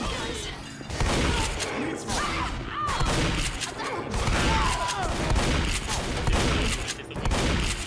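Rapid gunfire bursts in the zombie shooter Left 4 Dead, a dense continuous volley of loud cracks and booms with little pause, over faint game sound.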